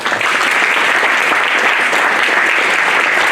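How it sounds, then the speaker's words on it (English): Dense, steady applause from a graduation audience at an internal medicine residency ceremony fills the whole stretch, loud and even, with no voice over it. "Please give them a round of applause."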